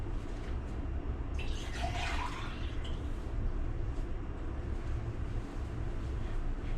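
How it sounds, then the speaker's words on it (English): Filtered water is poured into a jar for lacto-fermented hot sauce, giving a brief splashing, gurgling stream over a steady rumbling background. It is moderately close and no one speaks. "So I'm going to pour this water,"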